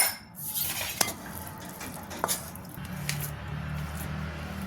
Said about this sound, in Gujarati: જે થાળીને આપણે ગ્રીસ કરીને રાખી હતી ઘીથી એમાં એને બધું મિક્સરને ઢાળી દેવાનું છે